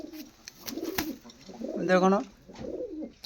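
Big-sized Kaldhoma pigeons coo at a pigeon sale, giving several soft, throaty rolling coos close by, with one fuller, longer coo in the middle, while someone speaks briefly between them.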